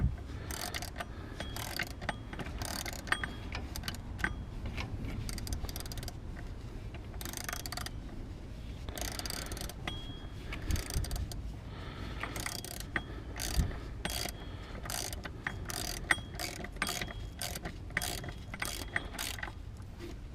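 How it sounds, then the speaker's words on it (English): A hand ratchet clicks in quick bursts, pausing between strokes, as bolts are tightened on a newly fitted power steering pump, close and fairly clear. "Now just tightening up the bolts."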